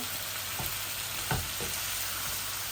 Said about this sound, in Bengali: আলু গুলা বাজা বাজা হয়ে গেছে বুনা বুনা